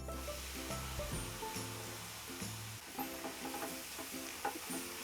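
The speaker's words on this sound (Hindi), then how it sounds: "सूजी को आपको हल्की आंच पर ही भूनना है। मीडियम फ्लेम पर हल्का हल्का से इसे भूनेंगे।" Semolina roasting in desi ghee over a medium flame gives a soft, continuous sizzle with repeated stirring and scraping sounds, fairly quiet and close.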